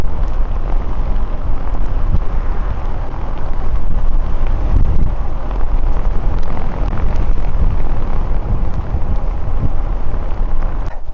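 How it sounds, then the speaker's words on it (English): Strong wind buffets the microphone in a continuous loud rumbling roar, swelling and easing in gusts throughout, on an exposed coastal cycle route near Plimmerton, New Zealand. "Just got to be careful of the wind gusts."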